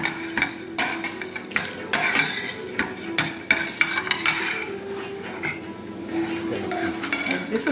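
Lentils for paruppu thugayal being dry-roasted in a pan, with repeated scraping and clinking of a metal spoon against the pan over a low steady hum and a faint sizzle.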